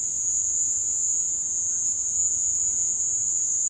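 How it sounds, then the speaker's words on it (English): A recording of chirping crickets plays over a loudspeaker inside a room, producing a steady, dense, high-pitched trill that holds evenly and then cuts off abruptly. "recordings that he had of crickets and played them over a loudspeaker inside a room so he could capture the echoes"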